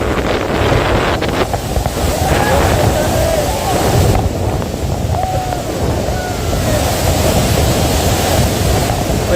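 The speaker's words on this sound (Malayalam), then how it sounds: "ഇവിടെ ഏറ്റവും വലിയ വെള്ളച്ചാട്ടത്തിൻ്റെ ചുവട്ടിലാണ് ഞങ്ങളിപ്പം. അതിൻ്റെ അങ്ങോട്ടറിയാൻ പോകുന്നില്ല, ഭയങ്കര വെള്ളമാണ്." Roaring water at the foot of Chitrakoot waterfall, heard from a boat: a loud, dense, unbroken rush buffeted by heavy wind noise on the microphone, steady throughout.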